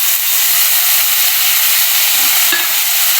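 Chopped tomato sautéing with onions in a pan for an egg curry, a steady close sizzle and hiss with faint stirring scrapes, no talking.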